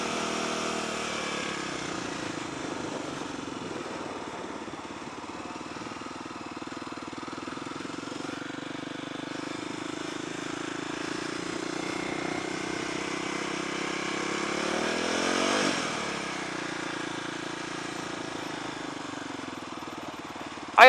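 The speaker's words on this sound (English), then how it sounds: "Idle's gonna be a little weird because the cable's not gonna be quite right" A motorcycle with a broken throttle cable idles steadily and unevenly, a continuous low engine drone running throughout with a brief rise near the end.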